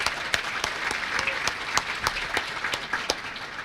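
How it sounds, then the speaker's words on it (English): An audience at a student production awards ceremony applauds steadily, with dense clapping spread across the room and sharp individual claps standing out throughout. "how about a round of applause for Katie?"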